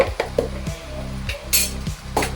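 A spoon scrapes and clinks against a pan while amaranth leaves are stirred with salt and turmeric. Several separate metallic knocks and scrapes ring out close by, with a faint sizzle underneath.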